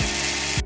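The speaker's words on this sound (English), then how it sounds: "Hold the trigger button for 3 seconds to drill the bone." A bone drill whirs steadily in a VR surgical simulation of a total ankle replacement. It is a brief, continuous mechanical hum with a slight dip near the end.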